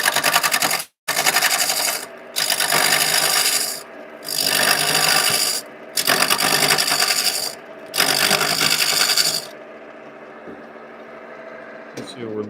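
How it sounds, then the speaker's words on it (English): A lathe turns a wooden carving mallet blank as a sharp carbide-tipped tool bites in, producing loud bursts of harsh rasping cuts separated by short pauses, five or six passes in a row before the cutting stops. "you can really take up a lot of material very quickly with this sharp carbide tip"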